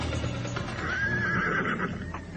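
A horse gives a single clear whinny near the middle, rising and wavering over a steady background rumble, fairly close and alone without speech.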